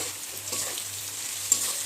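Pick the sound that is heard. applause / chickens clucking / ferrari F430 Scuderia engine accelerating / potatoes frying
potatoes frying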